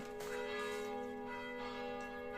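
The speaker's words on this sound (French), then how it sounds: "Attendez, on va laisser une minute ces cloches." Church bells ring continuously with a steady, sustained metallic tone and overlapping resonant strikes, heard alone at a moderate distance.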